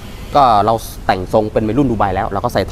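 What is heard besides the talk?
None of the usual background noises is heard.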